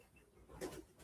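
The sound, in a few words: pigeons cooing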